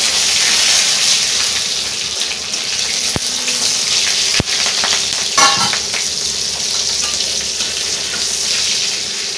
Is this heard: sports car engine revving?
no